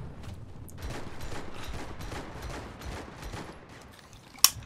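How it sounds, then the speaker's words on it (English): Rapid bursts of gunfire crackle at a distance through a match of the iOS shooter Go4MC5, a fairly quiet rattling volley that ends with one sharp crack. "As the grenade spam comes through."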